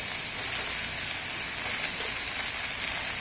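Chopped gourd sizzles steadily in hot shrimp oil seasoned with cumin, bay leaf and dried chilli, a close, even hiss like rain that holds without pause.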